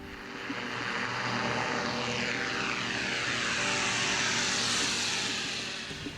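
An Aircam airplane with two Rotax 912S engines flies past, a loud continuous propeller drone that swells and fades with a sweeping pitch shift as it passes close.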